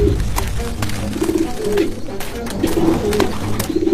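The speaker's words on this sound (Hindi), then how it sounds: "एक कबूतर बुरी तरह जमीन पर गिरा और फड़फड़ा रहा था" A pigeon in a cartoon coos steadily and flaps on the ground, its feathers whirring in rhythmic bursts over a loud, busy background of music and effects, with no talking.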